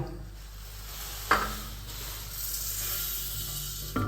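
Whole spices (mustard seed, cumin, fennel, coriander, nigella and black pepper) dry-roast in a pan for green chili pickle, giving a soft, steady hiss with a couple of sharp stirring scrapes close by.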